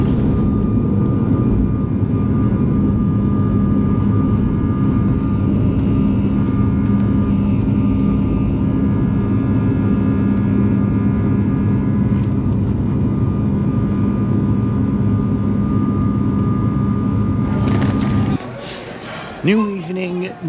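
An airplane flies in to land at Orlando International Airport, its jet engine drone steady and loud throughout before cutting off abruptly near the end, followed by brief rustling.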